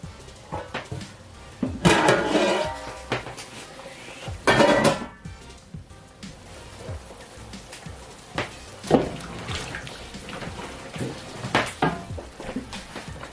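Washed rice and water are poured into a large cooking pot for party jollof rice, with irregular metallic clanks, scrapes and splashing bursts, close and moderately loud.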